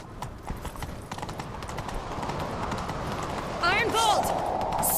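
A horse gallops in The Witcher 3, its quick steady hoofbeats thudding close and loud over continuous ambience, with a brief whinny-like cry near the end and voices talking alongside.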